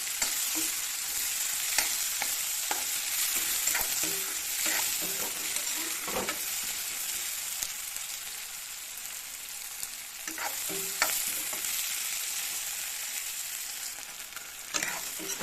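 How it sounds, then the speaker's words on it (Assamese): Chopped onion, bay leaf and whole dried chilli fry with a fish head in hot oil, a constant close sizzle punctuated by scattered stirring scrapes and taps across the clip, with no voices. "গোটেইখিনি ভাজি দিম আৰু মাছৰ মূৰাটো ভাঙি দিম।"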